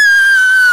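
A voice imitates a scream from a rope sling ride with one loud, sustained, high-pitched shriek held steadily throughout.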